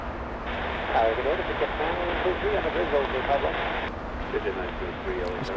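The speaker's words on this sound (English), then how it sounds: "the little Volaris flying in from Guadalajara" A Volaris airliner arriving at LAX from Guadalajara, a steady broad engine roar at a distance with someone talking over it throughout.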